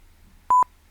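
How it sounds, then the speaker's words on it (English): Two short, sharp electronic beeps in quick succession come from a Barcrest Crystal Maze fruit machine, clean and loud against near silence. "It's just beeps."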